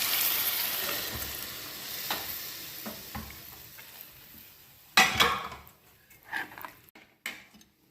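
Homemade spice masala sautéing in a pan with cooked whole masoor lentils: a loud sizzle that gradually fades, broken by spoon scrapes and stirring, then a sudden clatter and a few knocks of utensil against the pan.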